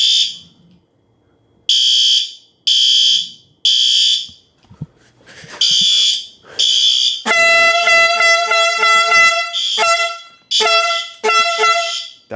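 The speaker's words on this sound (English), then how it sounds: "Our horn strobe in here is good." Fire alarm horn strobe sounding in a smoke generator building during a system test: loud repeated horn blasts in bursts, then a rapid pulsing electronic tone, close and alone with brief gaps between blasts.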